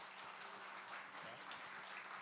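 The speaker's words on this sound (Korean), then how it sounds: "우리 박수로 우리 목사님 초대하도록 하겠습니다." A church congregation claps together to welcome its pastor to the front, a soft, steady patter of applause from a hall of people, fairly distant and without speech.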